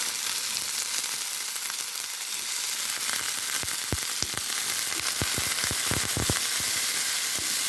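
Tomato fries in a pan with a steady hiss of sizzling oil, while sharp spits and pops cluster toward the end, close and fairly loud, with no talking.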